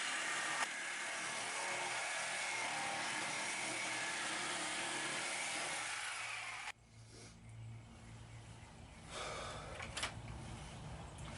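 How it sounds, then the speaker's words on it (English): A Milwaukee Sawzall reciprocating saw cuts bumper steel for a 1978 Ford F-150, giving a loud, steady buzzing grind for about six seconds before stopping abruptly, followed by quieter handling noises and brief scrapes. "You notice me working the Sawzall back and forth like that."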